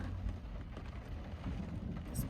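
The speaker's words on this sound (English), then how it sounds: "it's a beautiful storm." A storm with rain and thunder outdoors, a dense rumbling wash of rainfall with low, rolling thunder underneath, steady and moderately loud without any voices.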